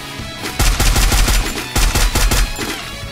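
Rapid MP40 bursts in the Free Fire mobile game: loud, close automatic fire in two long strings of sharp, evenly spaced shots separated by a brief pause, with faint echoes between.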